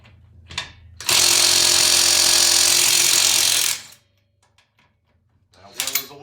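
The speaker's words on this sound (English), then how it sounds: "we're gonna see how easily these lug nuts come off" A Porter-Cable 20V 1/2-inch cordless impact wrench loosens car lug nuts in one loud, close, hammering burst of about three seconds, then stops, with faint handling noises after.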